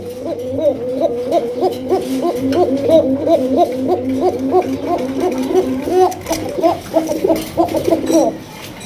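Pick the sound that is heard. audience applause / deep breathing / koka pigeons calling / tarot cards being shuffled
koka pigeons calling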